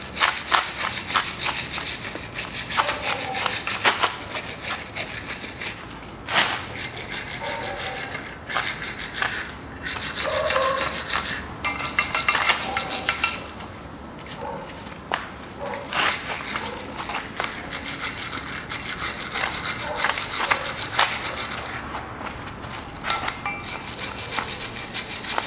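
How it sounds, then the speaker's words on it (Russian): Scrubbing and brushing on a front brake caliper of a 2008 Chevrolet Epica, cleaning around the spring mounting spots; steady close scratchy rubbing strokes continue for the whole stretch with brief pauses. "И чищу саму скобу в этих местах, где пружинки установлены."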